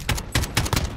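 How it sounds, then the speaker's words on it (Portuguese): Rapid automatic gunfire in Call of Duty Warzone, four quick loud bursts in an even rhythm, close and punchy. "Ai, tô tomando tiro."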